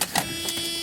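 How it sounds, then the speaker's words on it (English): Power antenna on a 1993 Mercedes-Benz 190E Limited Edition sedan extending, a steady whirring motor hum with a faint mechanical tone, heard close and alone for under a second. "Antenna works, you can hear it doing its deed there."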